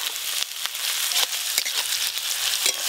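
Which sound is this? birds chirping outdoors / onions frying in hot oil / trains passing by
onions frying in hot oil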